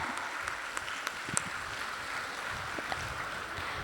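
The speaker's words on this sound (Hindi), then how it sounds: "अरे वाह, जोरदार तालियां आप लोगों के लिए।" A group at an evening meditation and yoga camp gives steady, faint applause, an even wash of clapping with a few sharper individual claps.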